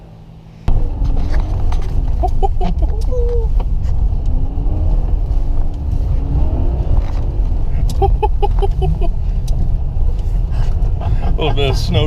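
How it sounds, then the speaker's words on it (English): A 1500hp Corvette drifts in falling snow, its engine a loud, continuous low rumble with rising and falling revs and tire noise from the start, with brief speech heard over it. "A little bit of snow drifting."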